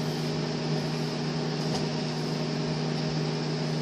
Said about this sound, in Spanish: es el ruido del microondas